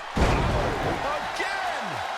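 A hurricanrana wrestling move in a video game lands with one loud heavy slam, followed by crowd noise and a commentator talking.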